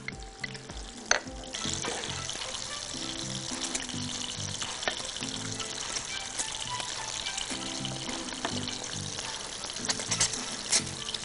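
Ghee sizzles and crackles in a pan while fava beans with eggs are cooked, a steady close frying hiss with a few clinks of utensils.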